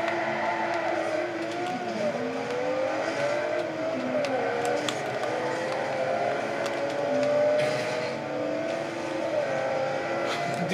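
A car racing at full throttle in the racing game Forza 4, its engine droning and revving steadily with rising and falling pitch as it accelerates, loud and continuous with no talk over it.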